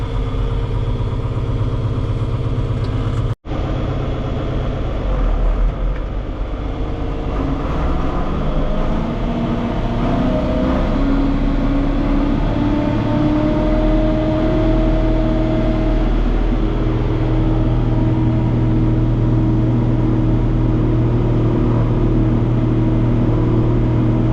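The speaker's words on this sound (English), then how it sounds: "I have to unhook the blower tractor" A blower tractor on a dairy farm, used while filling silos with haylage, runs on with a steady low engine drone. After a brief cut near the start, the pitch slowly rises and settles into a loud, continuous hum for over twenty seconds.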